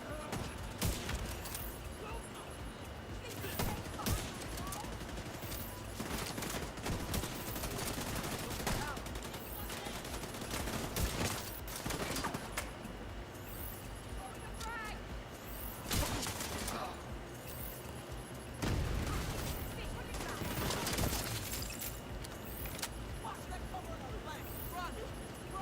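Automatic and rapid gunfire from a video game firefight in The Division 2, bursts of shots recurring loudly throughout with people talking over the combat.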